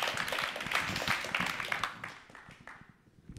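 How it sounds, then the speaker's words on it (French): An audience applauds a contestant at a university thesis-presentation final, a burst of clapping that fades out over a few seconds. "on l'applaudit encore bien fort, Maëlic"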